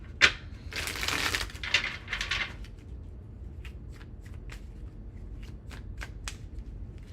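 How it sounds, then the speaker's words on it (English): Tarot cards being shuffled by hand, a few quick riffling bursts at the start followed by sparse soft card flicks and taps, close and quiet, with no speech. "Last shuffle."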